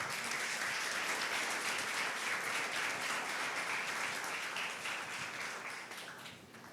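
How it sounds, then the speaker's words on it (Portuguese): A church congregation bursts into warm applause for Jesus after a Portuguese sermon. Full, continuous clapping holds steady, then tapers off toward the end. "Uma salva de palmas para Jesus."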